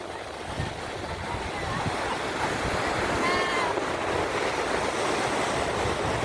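Ocean surf washing onto a shore at an outdoor wedding gathering, a steady broad wash of waves with some wind buffeting, moderately loud and continuous, with faint voices and a brief high chirp mixed in.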